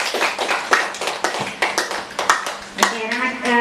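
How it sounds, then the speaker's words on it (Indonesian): Classroom students clap for their classmates in a few quick uneven bursts of hand claps and taps, close by, with a voice speaking near the end. "Kasih tepuk tangan temannya."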